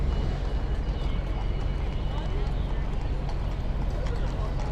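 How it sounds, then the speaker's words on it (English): Horse hooves clip-clop at a trot along a busy Manhattan street on a Tuesday night, a steady patter under constant city traffic rumble and crowd noise. "I've never seen a horse trot sideways like that."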